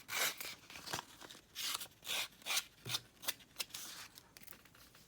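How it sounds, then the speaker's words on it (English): Scissors scrape along a torn paper page edge to distress it in a craft journal, a run of short rasping strokes, close and fairly quiet, with no talk. "So I'll just distress this edge with my scissors to match the other edges."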